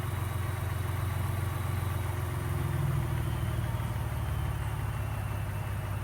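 Ford EcoBoost engine idling steadily just after a cold start, a continuous low hum and mild clatter held at an even level throughout, close by with no talk.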